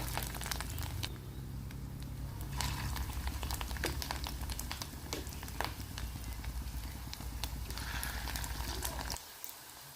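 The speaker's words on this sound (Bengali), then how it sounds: "দিয়ে দিলাম গরম তেলের মধ্যে তেলটা কিন্তু গরম হতে হবে" Fish roe fritters fry in a pan of hot oil, a dense, continuous crackling hiss with scattered sharp pops that runs loud and steady, then softens near the end.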